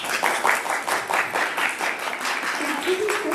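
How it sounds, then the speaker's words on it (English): Audience applause for student government debate candidates at a school assembly, a steady dense wash of clapping throughout, with a voice briefly heard near the end. "Please give your candidates a warm round of applause."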